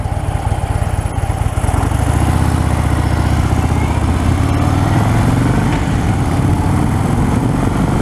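A 2016 Harley-Davidson Fat Bob motorcycle on a test ride, its engine a loud, close, steady low rumble that holds throughout with slight rises in throttle.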